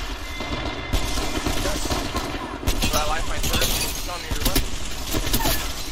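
Rapid automatic gunfire and bursts from an Apex Legends arena match, dense and continuous with sharp cracks and impacts layered over game noise for the full stretch.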